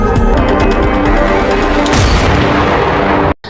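A sniper rifle shot at long range in a film scene, a loud blast that dominates with a dense, rumbling tail and a second sharp crack partway through, then an abrupt cut to silence.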